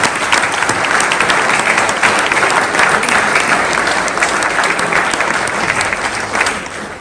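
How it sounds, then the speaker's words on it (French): A crowd at the mayor's New Year greetings ceremony in Pomponne applauds the municipal staff, a dense, steady wash of clapping from many hands that holds for the whole stretch without a break. "On peut applaudir les agents."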